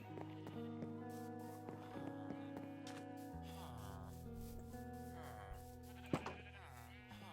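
Minecraft sheep bleating in a quiet game scene with a soft musical tone underneath and a brief louder blip near the end, no talking over it.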